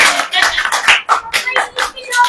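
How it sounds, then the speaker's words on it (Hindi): An audience at a Christian preaching service claps hands in a quick, loud burst of sharp irregular claps, close and continuous for a couple of seconds. "ताली बजाओ।"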